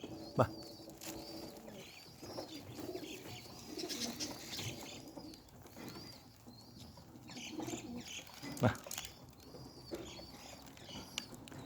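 Dumuqora pigeons flying outdoors, with soft cooing and faint wing flaps against quiet background ambience, plus a couple of sharper claps of wings.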